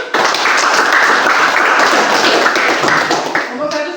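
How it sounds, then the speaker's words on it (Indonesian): An audience in a classroom lesson breaks into sustained, loud, dense applause for several seconds, with clapping filling the space and close and continuous throughout. "Kita beri aplaus dulu."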